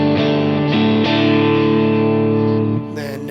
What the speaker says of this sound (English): this is my clean tone, position 4.